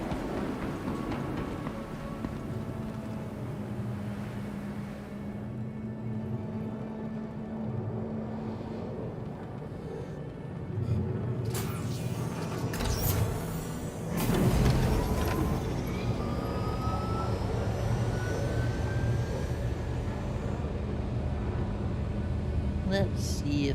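Skyway shuttle in the Star Citizen game departs with a low, continuous engine hum that swells into a louder rumbling surge partway through, then holds steady with a rising whine.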